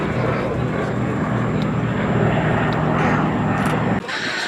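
World War II aircraft taking off at the Duxford Battle of Britain Airshow, a loud, steady engine roar held throughout and close by, under faint commentary, dropping away abruptly near the end.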